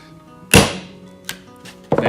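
A hollow punch struck with a hammer to cut a hole through gasket paper, giving a sharp close thump followed by two lighter knocks, with no one speaking.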